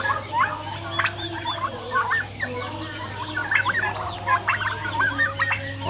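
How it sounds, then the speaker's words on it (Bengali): Turkeys grazing on grass give repeated short clucks and calls over a steady low hum, with some birds close and some farther off. "এই যে এটা দেখেন একটা অ্যাডল মুরগ"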